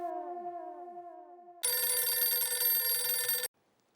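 A telephone rings loudly and continuously for about two seconds, a bright electronic trill that stands alone and stops abruptly, after a short run of descending chirpy tones.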